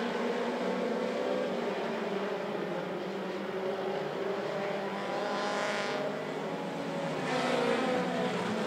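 Mini stock race cars roar down the front straightaway of a racetrack, a dense, sustained engine drone with a couple of swelling passes, loud and continuous, with no talking.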